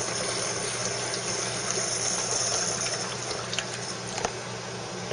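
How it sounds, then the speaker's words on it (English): Water rushes steadily through the lever group of a Bezzera Strega espresso machine during a cooling flush, a continuous hissing, gushing stream with faint steam, close and even throughout. "I'm going to pull down the lever to do a cooling flush"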